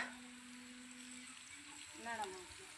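Prawns and onion sautéing on a tawa for a prawn tawa curry, a steady faint sizzle and crackle of frying under a quiet voice in the background.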